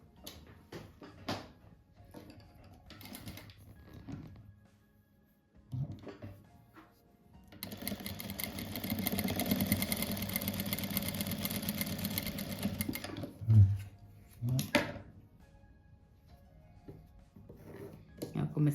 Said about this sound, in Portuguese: agora eu vou costurar eles assim, depois faço a costura no meio aqui